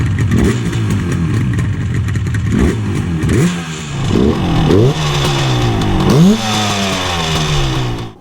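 A 1971 Yamaha R5-B two-stroke motorcycle runs close by, its engine crackling and revving in a series of sharp throttle blips that rise and fall over a buzzing idle, loud and unaccompanied by talk.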